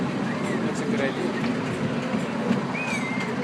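Train riding on rails heard from inside a carriage, a steady loud rumble with faint rhythmic clacking and a brief high wheel squeal, while people talk over it.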